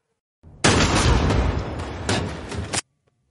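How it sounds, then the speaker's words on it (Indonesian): Gunfire in an action film scene where a woman is shot: a loud, sustained blast of about two seconds that starts abruptly, carries heavy rumble and cuts off sharply into quiet. "Namun tiba-tiba Udin menembak Angel sampai tersungkur."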